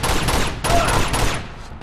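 Pistol gunfire from Uncharted 2 gameplay: a dense, loud burst of repeated shots with rapid cracks and explosive bursts, steady for over a second before fading.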